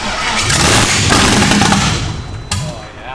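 A Ford Ranger pickup with a swapped 5.3 LS V8 cranks and fires up, roaring loud and close for a few seconds before the revs drop, with a sharp bang near the end.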